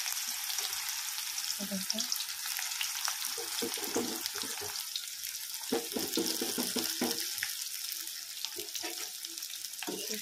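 Onions sizzle in hot oil for a fish curry, a steady crackling hiss throughout with occasional clinks of a spoon stirring, close and moderately quiet.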